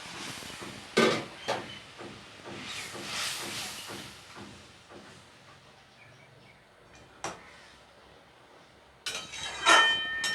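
Fish is added to a pan of simmering spiced gravy for a Bengali-style bata fish curry, with a loud hiss and sizzle, clinks from utensils, and a steady bubbling bed that rises again near the end.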